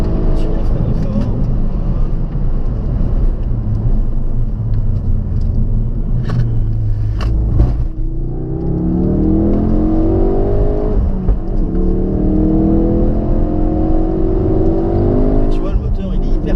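A Ford Focus RS engine pulls hard through the gears, its deep growl rising in pitch on each acceleration with a brief dip at a shift, heard close from inside the car under steady talk.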